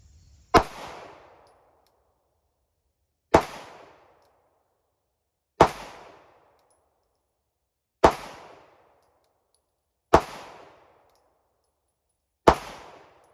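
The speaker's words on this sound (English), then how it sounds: "We're going to start with the PSA Dagger, 9mm. I'm going to shoot at the target on the left with this one." Six loud single gunshots from a PSA Dagger 9mm handgun fired at a target, each a sharp crack with a short echoing tail, spaced about two to three seconds apart in otherwise silent surroundings.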